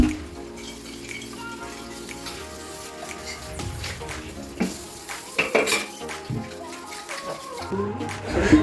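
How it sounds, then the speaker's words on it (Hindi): Dishes, pots and utensils being washed at a home kitchen sink, with continuous clinking and clattering of metal and crockery over running water, close and busy throughout. "इसीलिए मैं बर्तन धोने लगी थी"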